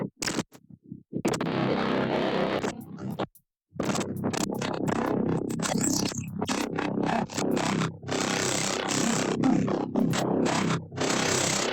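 Mid-range mono bass synth layer, resynthesized in Harmor, played in repeated sustained notes as a filter control is swept, giving a gritty, scratchy, buzzing tone with brief gaps between phrases.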